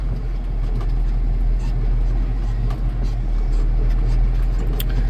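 A Massey Ferguson farm tractor engine runs steadily on a farm after muck spreading, giving a loud, continuous low rumble that holds even for about five seconds with no talking.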